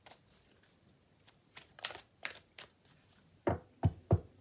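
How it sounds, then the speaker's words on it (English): Soft riffling and tapping of tarot cards being shuffled, in a series of short bursts that grow louder toward the end, with no talking. "as I was shuffling those cards"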